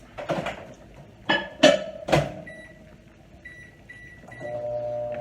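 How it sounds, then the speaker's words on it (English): A microwave oven hums steadily after a few clunks and clicks of the door and buttons, with a faint tone sounding during the run. "throw those in the microwave for just 8 to 10 seconds"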